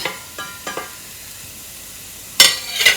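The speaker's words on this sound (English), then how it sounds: "So we need to saute this for some time till the onions are translucent" Sliced onions and curry leaves hit a hot pan and sauté for egg pepper fry, with a few short sizzling bursts and scrapes, quiet in between, then two sharper, louder crackling spurts near the end.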